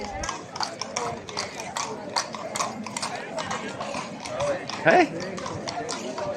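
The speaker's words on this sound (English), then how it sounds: "Here comes the horse and cart." Horse-drawn carriage clip-clopping along a bustling street near old castle walls in Seville, steady hoof beats under tourist chatter and a nearby voice, with one brief louder moment midway.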